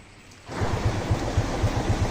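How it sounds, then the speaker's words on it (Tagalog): Steady rain starts abruptly after a short quiet moment, a dense wash of patter with low rhythmic thumps underneath, close and fairly loud. "Umuulan po eh, no?"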